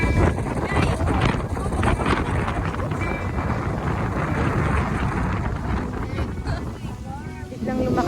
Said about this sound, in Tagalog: Biglang lumakas yung hangin, oh.